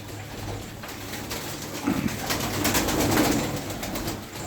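Arka Tepe pigeons coo in a loft, low soft throaty calls that swell in the second half amid a faint background hum.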